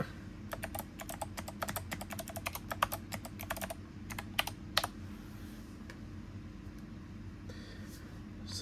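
Rapid keystrokes clatter on a computer keyboard as a password goes in at a sudo prompt on a Linux Mint system, a quick burst of clicks that trails into sparser taps and then quiet room hum.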